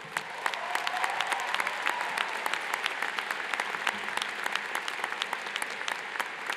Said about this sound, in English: So please, a round of applause for my MOCA brothers as well.